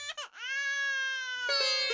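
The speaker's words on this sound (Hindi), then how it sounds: "ये तो बच्चे की रोने की आवाज है।" An infant cries in a Hindi film scene, a sustained high wail with a brief catch of breath at the start and a rougher sob near the end, loud and close with no talk over it.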